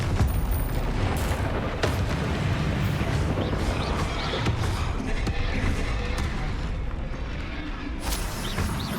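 Repeated Confringo blasting-spell explosions in Hogwarts Legacy, a dense run of booming blasts and thuds filling the scene continuously at steady loudness, with no talking.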